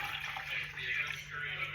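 Water poured into a pan for tea, a steady splashing trickle running close by for under two seconds while a faint low hum sits underneath.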